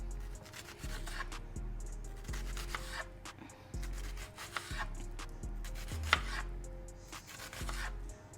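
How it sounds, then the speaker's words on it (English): A knife minces food on a cutting board in quick, even downward chops, a close, steady rhythmic knocking over a low background hum for loaded fries. "go ahead and mince it by just cutting it downwards"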